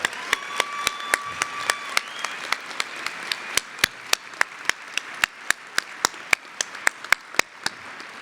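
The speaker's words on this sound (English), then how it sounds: "Let's give these outstanding scholars one more huge round of applause for their incredible accomplishments." Applause for honored scholars at a state governor's award ceremony, heard as a sparse series of sharp, evenly spaced claps close to the microphone over a quiet hall.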